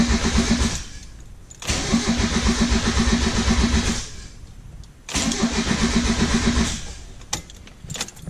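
A Mazda Miata engine cranks over with its fuel pump relay removed, so it never fires: two long bursts of rhythmic starter churning, close and loud, separated by pauses, with a short third start near the end.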